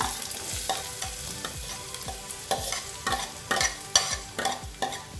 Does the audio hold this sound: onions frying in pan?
yes